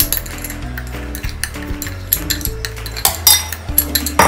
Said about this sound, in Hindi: Then we have to stir nicely slow flame करके.